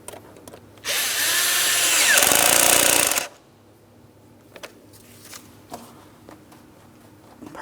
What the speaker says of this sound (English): We'll tighten that clamp.